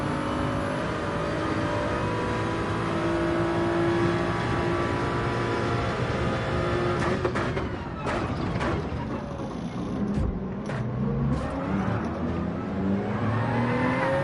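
A race car engine in Gran Turismo 7 drones loudly and steadily throughout, with revs rising and dropping as the car slides around, plus a few sharp clicks near the end.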